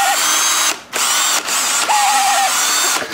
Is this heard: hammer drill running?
yes